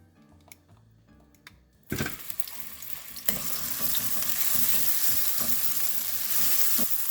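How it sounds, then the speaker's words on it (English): Minced garlic hitting hot olive oil in a pan: a few quiet clicks, then a sudden burst of sizzling that settles into a loud, steady crackle with light stirring taps. "To this pan, I'm going to add a little bit of olive oil, then some minced garlic"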